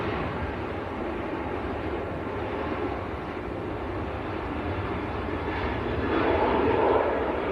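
A Ryanair airliner bound for Valencia roars at Manchester Airport, a continuous moderate engine rumble that swells slightly toward the end, heard alone without voices.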